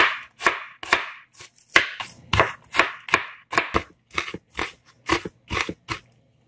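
A knife finely chops peeled shallots on a cutting board, making a rapid, uneven series of close, crisp chops with short gaps between strokes.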